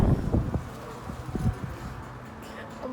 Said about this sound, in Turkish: Ah oh, çok kötü rüzgar